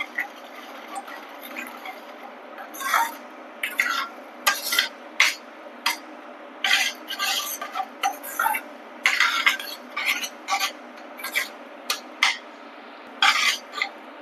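Paneer gravy masala is stirred with salt in a pan, giving a series of scraping, clinking strokes that come in irregular bursts, close and moderately loud, with a quiet background between them.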